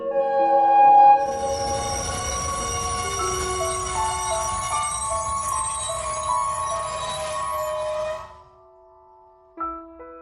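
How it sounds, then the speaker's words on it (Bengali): A train approaches as a sound effect in a village night horror story: sustained horn-like tones ride over a low rolling rumble for about eight seconds, then cut off, and a brief sound follows. "ওই যে ট্রেন আসছে,"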